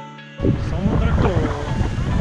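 Sea waves splashing onto a beach at Tel Aviv, Israel: a sudden loud rush of surf and spray close to the microphone, heavily buffeted by wind noise, with talking over it.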